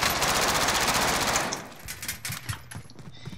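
Sustained automatic gunfire in Call of Duty: Warzone, a dense roar of rapid shots for about a second and a half, then scattered sharper single reports, loud and close.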